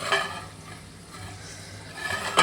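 Fish frying in a pan, a continuous close sizzle and crackle that swells slightly at the start and end of the short stretch, with no voices.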